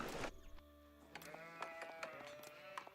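Sheep bleat repeatedly over a busy backdrop of game music and effects in Age of Empires IV, the calls clear and mid-distance amid shifting tones.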